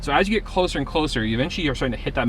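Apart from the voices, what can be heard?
No everyday noise stands out behind the speech.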